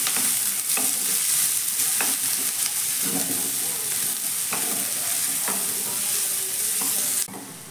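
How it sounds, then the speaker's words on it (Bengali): Two medium chopped onions fry in hot oil for egg paratha, a loud continuous sizzle broken by regular scraping stirs of a spatula in the pan, until the sound drops off abruptly near the end. "পেঁয়াজটাকে হালকা করে একটু ভেজে নেব প্রথমে।"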